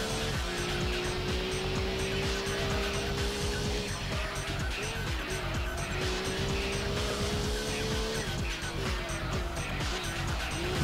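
Honda NSX race car in Gran Turismo 2, its engine droning loud and steady with pitch swells through gear changes, tires squealing and skidding through corners throughout, no talk.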